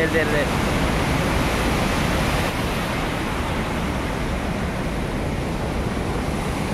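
A loud, continuous roar of floodwater rushing from the opened gates of the Musi Project dam in Telangana after heavy rain, broad and unbroken, with no voices over it.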